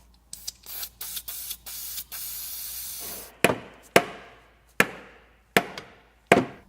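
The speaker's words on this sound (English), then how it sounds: "I'm gonna get some PB blaster and then hit it with a rubber mallet." PB Blaster penetrating oil is sprayed on a seized bolt during a Toyota Camry timing belt job, in several short aerosol hisses, followed by five sharp evenly spaced rubber-mallet strikes ringing out nearby.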